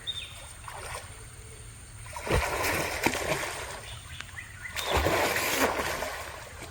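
Swimming in a backyard pond sends up two surges of splashing and sloshing water, close by and rising and falling in waves.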